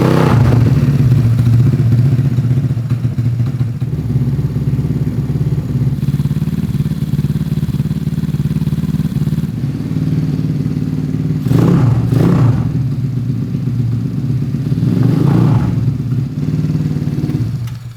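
A Honda Ruckus scooter with a 171cc GY6 engine, freshly tuned, idles loud and close with a steady putter, and its pitch swells in a few short revs.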